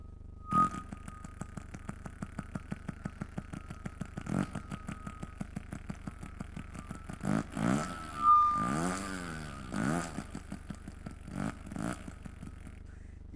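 A performer on stage imitates a CDI 800 motorcycle engine with his voice, producing rapid idling putters and revving swells that build and then sputter out.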